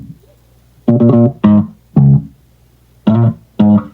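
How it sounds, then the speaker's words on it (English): Electric bass guitar line for an indie dance track, playing five loud, punchy notes in a syncopated pattern, each note short with a clear attack and a brief gap between them, heard alone without other instruments. "Fifth, bass guitar."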